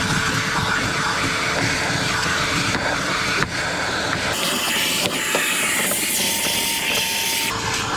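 A spray wand blasts water while cleaning a Rheem or BARD HVAC package unit, a loud, continuous hissing rush with brief pauses and changes in tone as the spray shifts.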